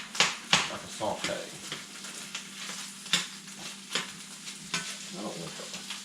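Potatoes sauté in oil with poke sallet greens, a soft frying sizzle punctuated by several sharper stirring scrapes and pan knocks, close by, with a voice speaking at times over it.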